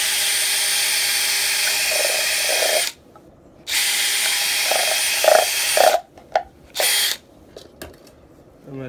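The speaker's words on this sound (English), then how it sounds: "I'm just gonna drill two holes." A power drill whines loudly as it bores holes into a yellow plastic solo cup, running in several bursts separated by short pauses, with a soft voice faintly underneath.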